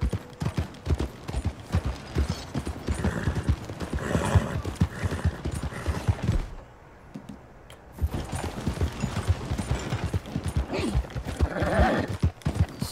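Horse hooves clip-clop steadily in Red Dead Redemption 2, a rhythmic clatter of footfalls that pauses briefly midway and then resumes, with creaking tack and no talk over it.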